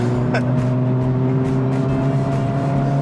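An IndyCar race car engine drones steadily at high revs on a lap of the Nashville street circuit, a continuous loud motor hum with no clear passing swell, heard from inside or close to the vehicle.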